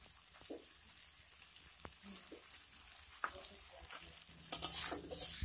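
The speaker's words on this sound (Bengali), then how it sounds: "কুচানো ধনিয়া পাতাগুলিকে নেড়েচেড়ে মিশিয়ে নিলে আমার পাঁচ মিশালি সবজি রান্না সম্পূর্ণ রেডি" A mixed vegetable curry with eggplant and freshly added chopped coriander is stirred in a pan, producing scattered spoon scrapes and clicks over a gentle sizzle that grows louder toward the end.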